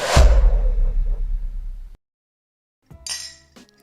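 Glasses clink together in a New Year's toast, a bright ringing clink up close followed by a short pause and a second lighter chime, with no talking.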